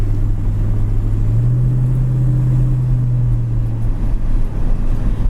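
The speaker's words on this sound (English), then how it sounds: "Car drives straight down the road." A red 1967 Ford Mustang coupe cruises straight down a road, its engine holding a steady low drone with a faint rise in pitch partway through, under constant road rumble and with no talking.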